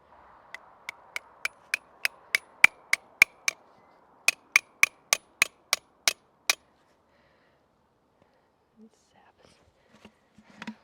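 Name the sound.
hammering a spout into a maple tree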